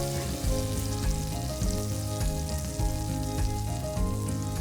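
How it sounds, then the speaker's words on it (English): Spinach wilting in a hot pan for a ketogenic mushroom and spinach curry, a steady loud sizzle with crackling bursts and faint stirring clicks, no voices. "as soon as you add the spinach to the pan, just with the heat, it's going to wilt that right down"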